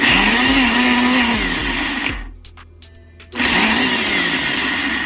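A blender blending tomatoes whirs loudly, drops out briefly for a quiet pause of about a second, then starts up again at full speed.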